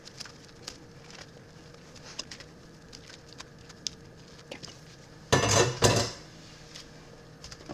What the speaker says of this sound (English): let me get a knife to even split these